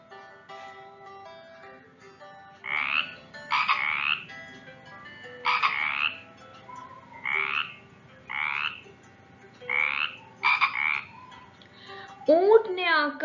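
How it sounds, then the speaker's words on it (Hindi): A cartoon frog croaks repeatedly in short raspy bursts about a second apart, close and clear over a soft musical background from a children's Urdu poem. "मेंढक शोर मचाए।"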